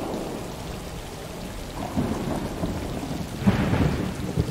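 Rain and thunder in the video game Stray: a steady hiss of rain falling on surfaces, with low rolling thunder building partway through and a louder rumble near the end, with no talking.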